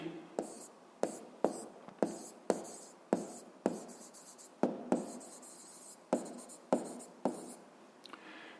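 Pen or pencil writing on paper during a physics exercise, a series of about a dozen short scratchy strokes, each with a sharp onset and then a fade, close and fairly quiet with no talk.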